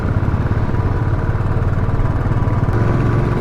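Bikers' motorcycles on the high mountain road at Umling La give a steady, unbroken engine drone, fairly loud and close, holding an even throb throughout with no voices.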